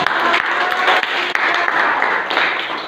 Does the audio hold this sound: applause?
yes